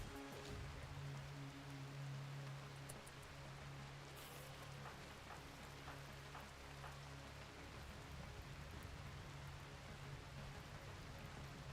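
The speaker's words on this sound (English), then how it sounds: "It's raining now" Steady rain in the video game Rimworld, a constant hiss of falling drops at moderate level, continuous and even with no speech over it.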